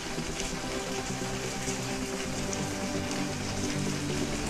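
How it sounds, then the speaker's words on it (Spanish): Rain falling steadily outdoors in Puerto Rico, a constant, even hiss of drops on surfaces at moderate level with no talk. "Como les comento, está lloviendo."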